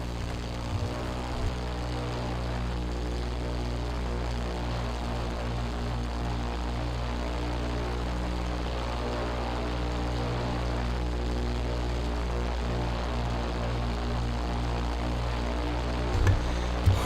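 A North American P-51 Mustang's propeller engine drones in Flight Simulator X, a steady, loud, throbbing hum holding unchanged for the whole stretch with no talk over it.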